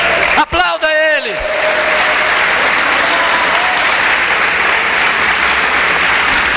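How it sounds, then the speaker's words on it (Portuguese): Church congregation breaks into loud, sustained applause after a brief spoken phrase from the preacher, the clapping rolling on steadily and densely like a full crowd. "Aplauda Ele."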